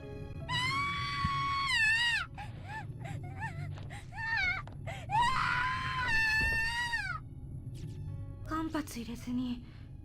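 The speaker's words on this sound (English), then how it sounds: "the first of the girls in line is the next to scream for her life" A girl in the horror game Corpse Party screams in terror with long, high, wavering shrieks, broken by gasps and moans, loud and close over a low rumbling background.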